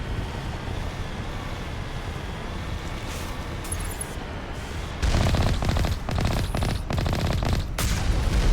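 Video game gunfire, bursts of automatic shots that grow louder and denser in the second half over a constant rumbling background, no talk.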